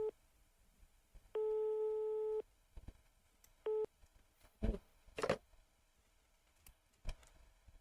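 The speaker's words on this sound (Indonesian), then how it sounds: "telepon perawat jaganya nggak diangkat" A tone-based signal on a phone line calling a night-duty nurse that goes unanswered, heard as two steady electronic beeps, one long and one short, followed by faint clicks and handling noises.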